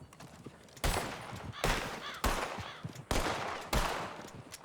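Five sharp gunshots fired from the hip in a Red Dead roleplay western video game, spaced roughly evenly about a second apart, each a loud crack with a short decaying tail, with no talking over them.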